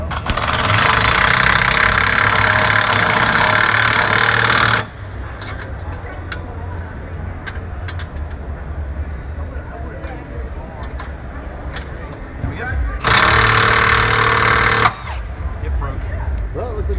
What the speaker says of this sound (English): Just send it on in with the impact.